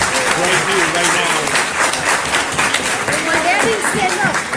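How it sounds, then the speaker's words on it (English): A crowd claps steadily in sustained applause, loud and close, lasting throughout without pause. "why not give a round of applause for our parents?"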